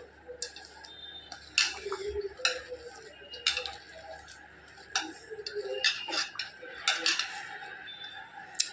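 A spoon clicks and scrapes against a bowl while a green chilli mixture is stirred by hand, irregular close taps and scrapes at moderate loudness with no voices.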